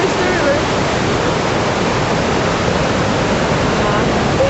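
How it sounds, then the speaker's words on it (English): A river flows loudly and steadily nearby on a nature walk, a dense, unbroken rushing roar like a waterfall, with faint voices under it. "The river."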